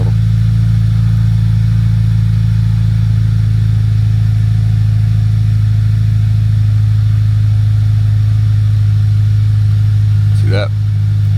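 A Subaru WRX STI idles after a cold start, a loud, steady low engine drone holding constant with a brief rising whine near the end.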